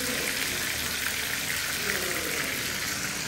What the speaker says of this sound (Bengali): এটা আরেকটু ভাজা হোক।